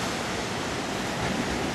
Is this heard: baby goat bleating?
no